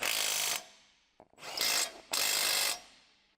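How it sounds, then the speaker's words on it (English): An electric impact wrench with a 21mm long socket tightens brake caliper bolts on a 2013 Jeep Wrangler JK in three loud, close, rattling bursts, each lasting about half a second to a second, separated by short pauses. "Tighten the brake caliper bolts with a 21mm long socket and an electric impact wrench."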